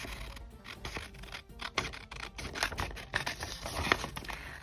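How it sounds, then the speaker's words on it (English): Several crisp snips of scissors cutting through thin acetate sheet, with scratchy rustling between cuts, fairly close. "I'm going to cut this now."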